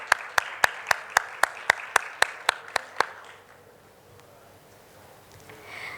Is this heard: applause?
yes